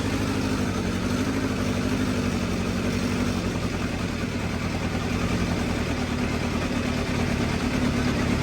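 A 2021 Ducati Streetfighter motorcycle engine idles steadily off choke, with a loud, close, even rumble that stays constant throughout, with no talking.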